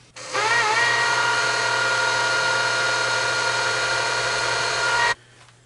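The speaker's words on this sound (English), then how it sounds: "So I've got a number 50 drill bit in the drill chuck, so let's go ahead and drill these" A drill spins a number 50 bit into metal while holes are made for shaper limit switches, a steady whining drone for about five seconds, close and continuous before stopping.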